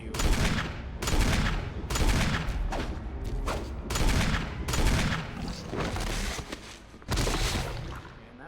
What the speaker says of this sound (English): Or I can just shoot you.